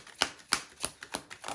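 Tarot cards are shuffled in quick riffling bursts, about five sharp rhythmic flutters, close and fairly quiet with no talk.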